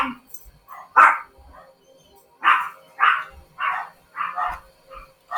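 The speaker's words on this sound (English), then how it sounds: "Just our dogs." Dogs in the video game Skyrim barking, a run of sharp barks with short pauses between them, fairly close, with a voice speaking around them.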